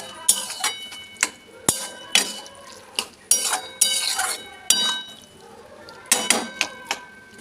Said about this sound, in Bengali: কড়াইটা পড়ে গেছে